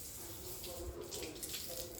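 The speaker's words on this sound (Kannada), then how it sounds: "ನನ್ನ ಗಾಡಿಗೆ ಸ್ವಲ್ಪ ನೀರು ಹಾಕು," Water is poured over a motorbike being washed, making a steady, continuous splash and trickle for about two seconds, with faint voices in the background.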